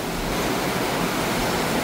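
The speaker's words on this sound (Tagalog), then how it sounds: "Papakita ko po yung lakas ng ulan." Dense, steady roar of heavy rain pouring down without pause, loud and close, with no voices.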